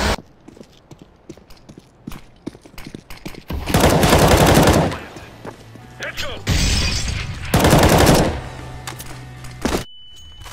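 Gunfire in a competitive CS:GO match comes in several loud, sustained automatic bursts, with quieter clicks and single shots between them and players talking in the background.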